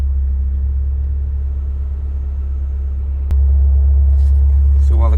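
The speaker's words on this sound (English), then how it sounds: "So while the car is still running" A Toyota Corolla engine runs at a steady low idle, a deep constant hum that jumps a little louder partway through, with faint higher noises near the end.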